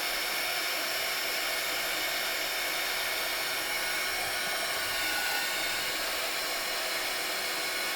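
A heat tool blows steadily and loudly throughout, warming thin card material for a junk journal cover, a continuous airy whoosh with no talking.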